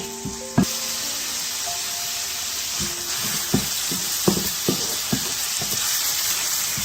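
Garlic sizzles steadily in a pan, a loud close hiss of frying oil broken by several sharp clinks and knocks of stirring, with no talking.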